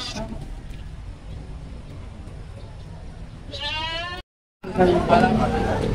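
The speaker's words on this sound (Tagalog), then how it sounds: "Laki ng kambing ni Sir, oh." A single wavering goat bleat rings out close by, followed by a brief cut and then a burst of nearby voices and farmyard noise.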